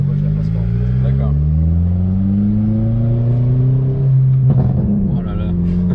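A Renault Megane 4 GT engine revs loudly and steadily, its droning pitch rising toward the redline before levelling off and dropping back as the gear changes.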